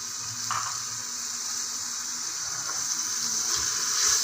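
Oil sizzles hard in a pan as meat with ginger and garlic is stirred, a steady close hiss with occasional scraping and clinks of the spoon, no talk.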